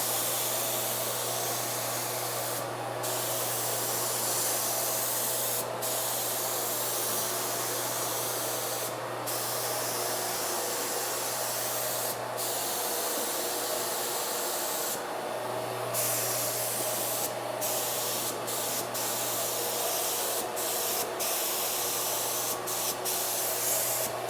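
A spray gun shoots finish onto a king size bed, giving a steady airy hiss with a low hum beneath, broken by brief pauses and short bursts over a long stretch.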